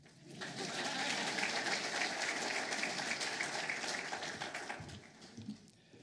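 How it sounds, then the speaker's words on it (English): Dense, steady clapping from a banquet audience at an athletics hall of fame dinner, rising quickly, holding for several seconds, then tapering off. "And you can applaud now."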